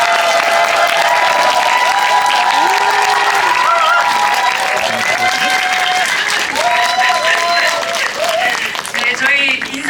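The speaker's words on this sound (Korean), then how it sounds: "큰 박수로 맞으시기 바랍니다." Cinema audience at a premiere screening applauding and cheering to welcome the actors and director, loud continuous clapping with excited voices and shouts over it, easing slightly near the end.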